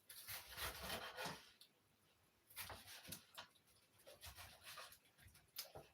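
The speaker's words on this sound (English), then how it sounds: "We're going to trim the edges first." A knife trims the crusts off bread slices for a cheese and tomato toastie, giving soft, close, intermittent rasping strokes in short bursts with brief pauses, faint and quiet.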